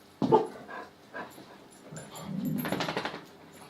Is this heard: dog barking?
yes